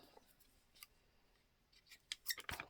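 Scissors trim paper for a junk journal nearby, with a few scattered faint snips early on followed by a louder cluster of quick cuts near the end.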